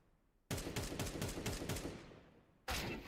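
Bursts of AK rifle fire in Counter-Strike 2: a rapid string of about eight close, loud shots, a short pause as it fades, then another burst begins, with no talk over it.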